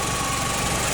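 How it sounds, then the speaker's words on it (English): A rebuilt Vauxhall Astra engine with a lightened flywheel idles lumpily, a steady close drone with uneven pulsing and mechanical vibration, no voices. "the idle's a little bit lumpy, and I think that's down to the lightened flywheel"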